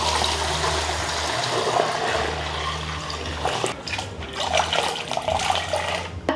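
Boiled pork hock is rinsed under a running tap, with a steady rush and splash of water that continues close by for several seconds, unevenly spattering as the meat shifts. No one speaks.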